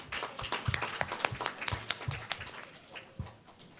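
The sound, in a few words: audience applause for a spelling bee contestant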